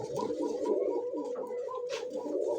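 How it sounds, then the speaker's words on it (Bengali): Arabian Coca pigeons coo nearby in a pigeon keeper's loft, a continuous, close, throaty warble of overlapping rolling coos. "অরিজিনালি অ্যারাবিয়ান কোকা কবুতর"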